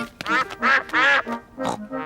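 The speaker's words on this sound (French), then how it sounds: "Peppa et Georges adorent nourrir les canards." Cartoon ducks quack in a run of five nasal, voice-like calls over about two seconds, loud and close, at a winter pond where bread is being fed to them.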